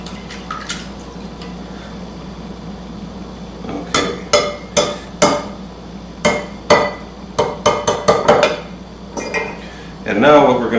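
Pumpkin pie filling and milk are mixed in a bowl, giving a run of sharp, rhythmic clinks and knocks of a utensil against the bowl, loud and close after a quieter start.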